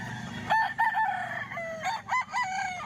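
A rooster crows nearby in Lipa, Batangas, several strained, wavering calls in quick succession, loud and clear over a quiet background.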